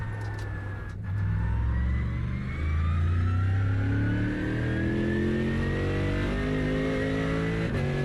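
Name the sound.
car tires squealing and engine in iRacing video game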